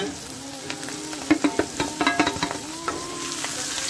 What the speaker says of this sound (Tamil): இதையும் சேர்த்து நல்லா ஃப்ரை பண்ணிக்கோங்க